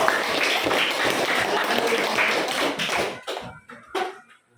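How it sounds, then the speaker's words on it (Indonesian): Students in a classroom clap together in a brisk burst of applause, sustained for about three seconds before thinning out into a few scattered, fading claps. "Tepuk tangan boleh."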